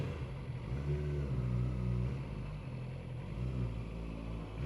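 A Yamaha R6 motorcycle with an aftermarket exhaust runs steadily with a low, even engine drone and a gentle swell, fairly quiet and without hard revving.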